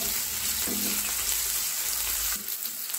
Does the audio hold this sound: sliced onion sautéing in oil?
yes